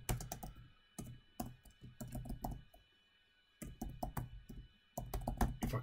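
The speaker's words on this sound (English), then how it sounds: "I can type" Typing on a computer keyboard, with bursts of rapid clicking keystrokes separated by short pauses, fairly close and alone with no talk.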